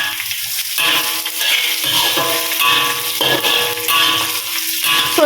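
Sardines and spices spluttering in hot oil in a pan for a Malaysian Indian style sardine curry, with steady close crackling, popping and hissing, alone with no talk.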